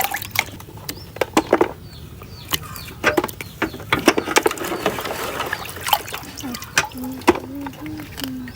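Clams are washed under running water; irregular splashes, drips and trickles patter close by while people talk and a chicken clucks in the background.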